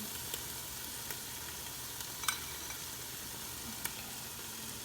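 Ethiopian or Eritrean spiced butter sautéing in a pan for doro wot chicken stew: a steady, close hiss of frying with a few small pops and crackles.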